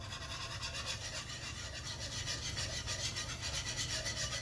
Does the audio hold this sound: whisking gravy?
yes